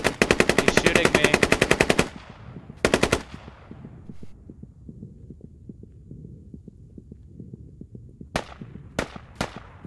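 AK rifle gunfire in an online shooter game: a rapid sustained burst of automatic shots, then a short second burst, a quieter stretch of faint distant pops, and finally a few sharp single shots, loud and close.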